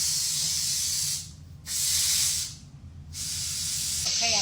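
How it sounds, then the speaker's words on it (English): Steam hisses loudly out of a pressure cooker in bursts, each cut off by two short pauses and then starting again. "I'm still letting the steam out of my pressure cooker."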